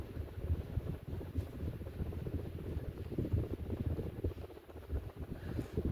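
A 42-inch Hampton Bay Southwind ceiling fan on a test rig blows air straight onto a microphone held beneath it, making a faint, steady buffeting wind rumble with gentle surges and no voices.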